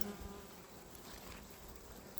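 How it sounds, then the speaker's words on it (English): Honey bees in a packed overwintered hive colony produce a steady, faint buzzing hum, continuous and alone without speech. "It's just packed with bees."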